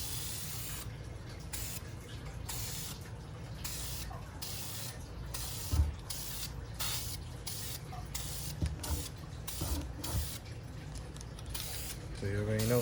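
Windshield wiper arms get spray-primed inside a spray box: steady close hissing bursts broken by short gaps, with low rumbling and occasional handling knocks, no talk.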